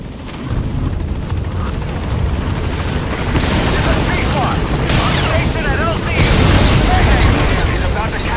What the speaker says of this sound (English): I'll send the chopper.